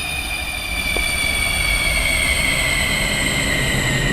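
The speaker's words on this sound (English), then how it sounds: "I feel like the R142 is the best sound effects in the game" An R142 subway train sound effect plays in the Minecraft video game in a NYC Subway build, a loud, continuous rumbling train run with steady high whining tones throughout.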